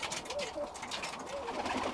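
Birmingham Roller pigeons coo softly in a loft, several low, rolling throaty calls overlapping at close range against a quiet background.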